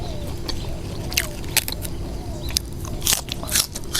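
Crisp crunchy bites into a very large crispy snack, held in both hands, with several sharp crackling crunches spread over a steady low background hum.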